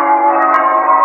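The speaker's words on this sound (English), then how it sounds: "Dick had not gone far when the bells of Bow Church began to ring." Steady, sustained ringing of the Bow Church bells in London, a loud, dense tonal hum that holds unbroken throughout with no talking.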